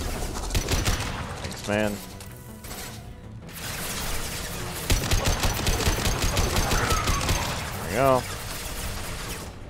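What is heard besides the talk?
gunfire in the video game Mass Effect 2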